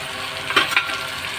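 Lentils and drumsticks with masala and salt being sautéed for a dal sambar, a brief steady sizzle with two quick stirring scrapes in the middle.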